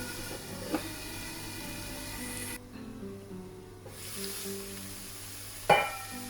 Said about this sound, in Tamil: நீ இந்த சிக்கனை வதங்க விடணும். மூடியால் மூடி வதங்க விட்டால் பெட்டர்.